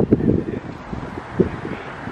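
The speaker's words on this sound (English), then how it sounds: "it's really windy" Wind gusting outdoors on a cold day by a house with a deck and stairs, buffeting the microphone in low rumbling bursts, strongest near the start and again around the middle.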